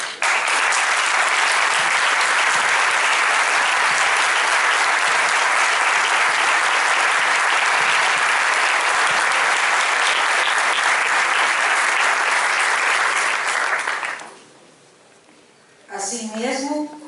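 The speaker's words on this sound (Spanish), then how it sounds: "reciban de los jóvenes este aplauso de agradecimiento" Sustained applause from a large audience of young people at a conference on theology and the poor, loud and steady for about fourteen seconds, then dropping away briefly before a short burst of clapping returns near the end.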